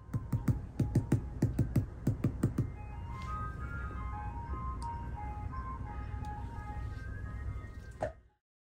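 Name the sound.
ice cream truck playing its song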